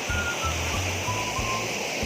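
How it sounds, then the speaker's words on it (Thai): Loud, steady rushing of water overflowing through rice fields after a full day and night of rain, a dense continuous roar close by with no voices. "เสียงน้ำดังคักเนี่ย น้ำล้นไหลขึ้นนะพี่น้องฝนตกเบิดขึ้น"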